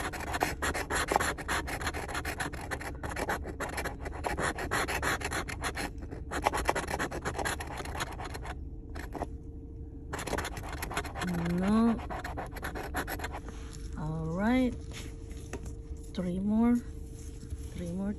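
A California lottery scratch-off ticket being scratched with rapid, close, continuous rasping strokes that pause briefly, while someone talks over it in spurts.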